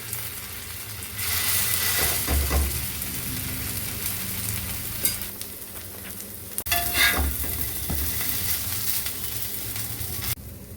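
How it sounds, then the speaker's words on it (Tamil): Idli pieces toast in oil in a pan, a continuous close frying sizzle with occasional scrapes and taps as they are moved, and brief dips in the hiss. "இப்போது நம்ம எண்ணெய் ஊற்றிட்டு இந்த இதை நம்ம கொஞ்சம் டோஸ்ட் பண்ணணும் இட்லியை"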